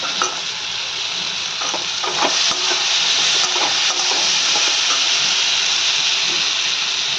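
Masala sizzles and is stirred in a pan as it fries down, a steady close hiss with scattered scraping and clinks that runs throughout, and no one speaks.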